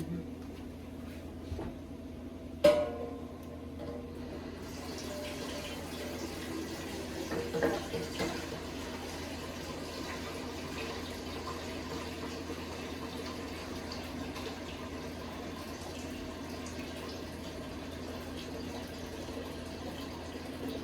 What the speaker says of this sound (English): I'm gonna rinse those off, throw them in some water